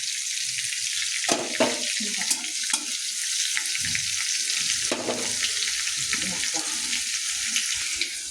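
Garlic cloves and curry leaves fry in a home kitchen pan with a steady, close hiss, joined by stirring scrapes and a faint trickle of water.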